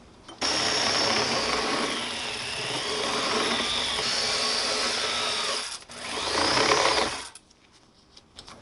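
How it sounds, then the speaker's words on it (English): A countersink drill bit grinds steadily against a metal tube, deburring it for several seconds, a dense rasping whir that briefly cuts out, then surges again before stopping. "I'm going to use a countersink drill bit"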